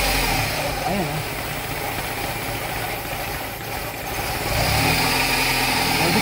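Toyota Corolla 2E engine idling with a faulty idle-up, a steady close mechanical hum and rumble that rises slightly toward the end, with people talking over it.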